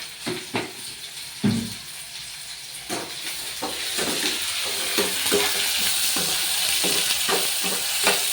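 Chopped onions fry with a pinch of salt in a hot pan, a steady sizzle and hiss running beneath repeated scraping stirs of a spoon against the metal, all close and with no voice.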